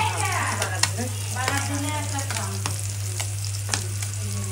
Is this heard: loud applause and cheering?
no